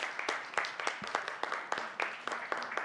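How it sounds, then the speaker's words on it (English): Scattered, fairly quiet applause from an audience at a professional talk welcomes a panelist, individual claps standing out in a loose, uneven rhythm. "Please give a huge round of applause for Sir."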